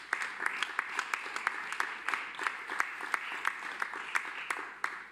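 Audience at a conference in the Maison des Journalistes applauding, a steady round of many hands clapping at mid-distance for several seconds.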